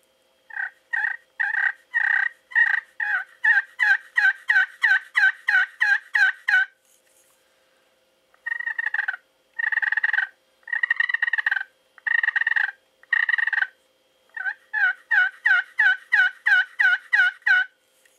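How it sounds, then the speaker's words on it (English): A DB Custom Calls slate turkey call plays rapid runs of yelps in rhythmic bursts, clear and close, with short pauses between the sequences and no talking. "So we'll just start out with the slate."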